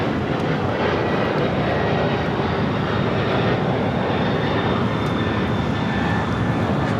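A DHL cargo plane operated by AVEX taking off from Los Angeles airport, a constant broadband jet engine roar filling the air throughout, moderately loud and without talk.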